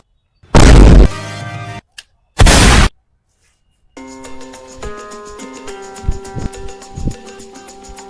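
Two loud, harsh gunshot blasts close by, followed by ringing metallic tones and scattered thuds.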